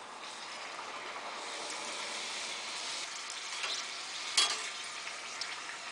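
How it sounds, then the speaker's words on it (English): Puris for pani puri frying in a pot of hot oil give off a steady, dense sizzling hiss throughout, with one brief sharper crackle partway through. "So we are going to fry our puri now."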